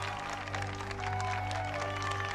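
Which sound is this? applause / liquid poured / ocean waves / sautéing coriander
applause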